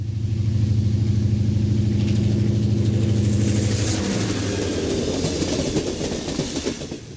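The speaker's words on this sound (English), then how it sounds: "A Milwaukee FP7A leads the commuter Cannonball in July" A Milwaukee FP7A locomotive leads the commuter Cannonball in July 1972, its diesel drone loud and steady before it passes and gives way to rumbling cars and clickety-clack wheels.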